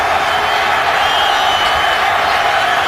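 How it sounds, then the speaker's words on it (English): A football stadium crowd roars in a dense, loud, unbroken wall of cheering just after a sack in a Ravens at Bengals game. "And this crowd is in a frenzy."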